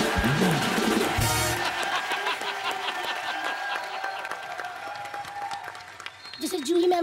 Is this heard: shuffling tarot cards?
no